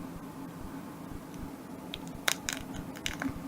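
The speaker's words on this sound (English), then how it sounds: "you can hear how crunchy that is" Crisp crunching bites of crispy fried trout skin up close, a few sharp broadband crackles over a low steady background hum.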